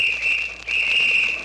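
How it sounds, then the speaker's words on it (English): Police whistle blown in a long, shrill, steady blast, briefly broken by a short gap before resuming, loud and clear with no talking. "Uh-oh, a whistle. Is that a policeman?"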